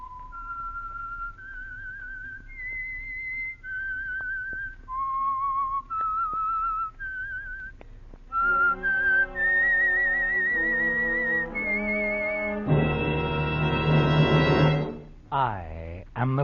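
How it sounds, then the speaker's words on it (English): Radio drama theme tune for the Signal Oil program: a lone whistled melody of sustained and sliding notes, then an orchestra swells in under it and rises to a loud, full finish, with no talk over it. "the signal to listen for is this whistle that identifies the Signal Oil program"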